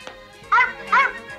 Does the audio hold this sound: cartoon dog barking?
yes